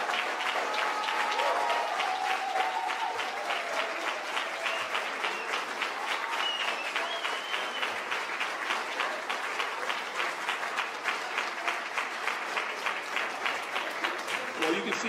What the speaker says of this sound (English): you can see how much we appreciate by the applause, how much we appreciate your service